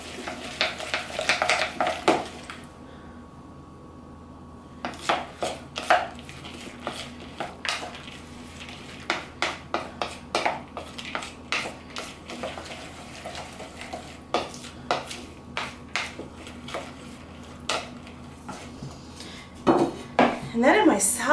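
Couscous, fresh pomegranate seeds and golden raisins mixed in a bowl with a utensil, giving repeated close clinks and scrapes in an uneven rhythm with brief pauses, a short lull near the start.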